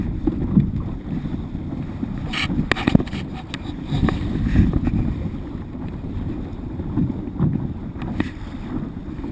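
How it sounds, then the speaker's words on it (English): Wind out on a boat on the water buffets the microphone as a steady low rumble with gusty swells, close and continuous, with faint sloshing and knocks underneath. "At least there's a little bit of wind."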